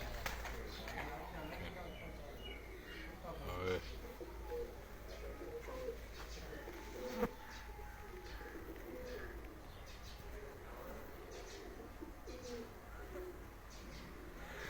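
Badshah breed pigeons coo softly and repeatedly around a home loft, with someone speaking over much of the cooing and faint chirps in the background.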